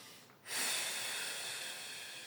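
A single sharp inhalation through the nose during a dissociation exercise, followed by a sustained soft airy breath, close and quiet.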